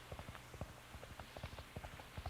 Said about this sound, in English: With my ear close to the ground, I can hear his horse running.